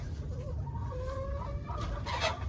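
Chickens in a backyard chicken run cluck softly and steadily over a low outdoor rumble, with a few brief higher calls near the end.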